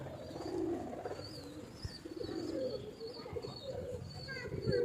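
Pigeons coo in a loft among open-tailed breeding birds, soft repeated low coos layered with chirps and rustling, fairly close but moderate in level, with someone talking intermittently.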